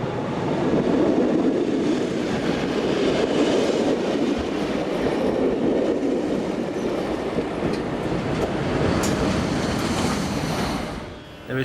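A locomotive-hauled passenger train from the 1932–1947 era rolls past on the railway, a steady loud rumble with faint rail clatter that fades out near the end.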